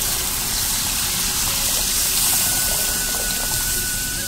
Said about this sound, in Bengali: মশলার মধ্যে দিয়ে দেবো জল।